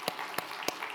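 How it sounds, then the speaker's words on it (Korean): Brief claps from a church congregation during a Korean Sunday service sermon, three sharp isolated hits spaced evenly over a second against a quiet room, rather than sustained applause. "박수 한번 쳐봐요"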